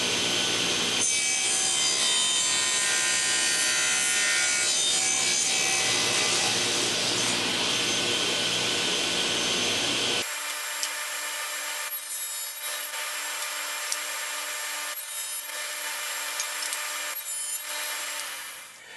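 A saw cuts wood pieces to length on a homemade picture framing jig, a steady rasping stroke that runs continuously, close and loud, then stops abruptly halfway through, leaving a quieter hum with faint scraping.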